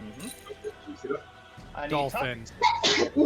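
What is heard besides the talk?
sneeze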